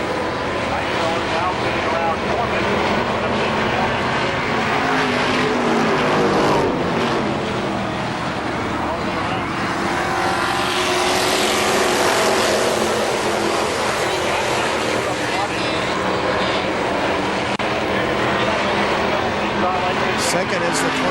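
Race cars lapping at KilKare Speedway make a loud, continuous roar of engines that swells and fades as the field passes, with an announcer calling positions over it throughout.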